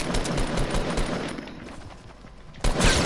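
Rapid automatic gunfire in Fortnite Battle Royale, bursts of shots rattling loudly for most of the moment before a brief lull and a final heavier blast, with no talk over it.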